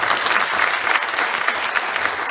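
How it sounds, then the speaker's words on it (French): Audience at a conference panel session in Lomé breaks into steady, dense applause, a continuous wash of clapping from a room full of people with no talk over it. "Est-ce qu'on peut applaudir le panel?"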